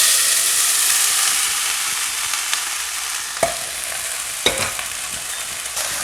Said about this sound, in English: Now to this I'm going to add in the cooked grains.